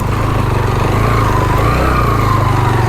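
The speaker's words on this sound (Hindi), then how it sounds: "अब बाइक चढ़ रहा है, आराम से चढ़ रहा है" A motorcycle climbs steadily uphill on the rough Ratti Gali Lake mountain track in Neelum Valley, its engine a loud, close, continuous drone with an even, throbbing pulse and no break.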